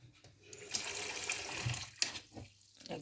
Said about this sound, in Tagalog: Lagyan natin ng tubig mga lalabs.